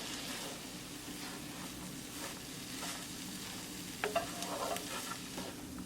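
Cooked dry urad dal being mixed in a pot after simmering, soft low scraping stirs over a faint steady sizzle, with a few clearer spoon scrapes near the end.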